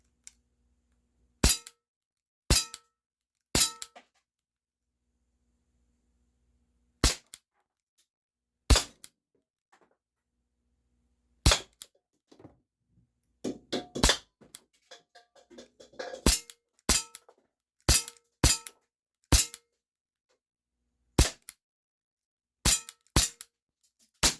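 Cybergun Baby Eagle airsoft pistol firing BBs at a plate indoors from about six yards in freezing cold, giving a run of sharp, loud cracks and metallic clinks spaced irregularly, with a brief flurry of quicker shots midway.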